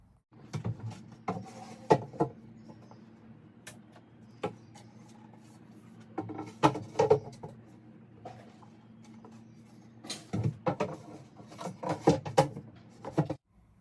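Wooden drawers being fitted into a cabinet, with repeated knocks, scrapes and rubbing of wood on wood in short irregular bursts over a steady low hum, fairly close and moderately loud.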